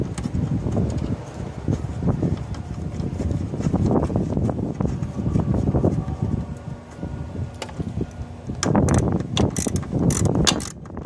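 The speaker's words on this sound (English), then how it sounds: "we just drive the screw right through it again" A screw is driven back in while a fan is replaced on a 2014 Kia Cadenza, giving a steady mechanical whirring and ratcheting that runs throughout, swelling louder near the end.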